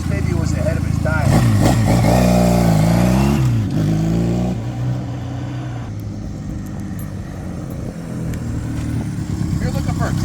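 A 1966 Honda CL160 Scrambler motorcycle engine revs and climbs through gears while riding, loud and close, then settles into a steadier lower drone.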